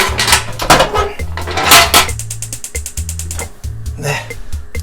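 A metal lid is set onto a steamer pot being readied for king crab, giving several clanking, rattling knocks and scrapes that ring out loudly and close.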